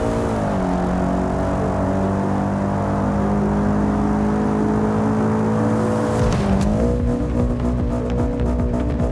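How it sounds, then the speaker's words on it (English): A BMW M5 in a car crash video game accelerates with a loud, steady engine drone. The pitch dips and climbs again as it shifts, ending in a rising rev with rattling crunches. "BMW M5 accelerated very well, but could not make the jump well"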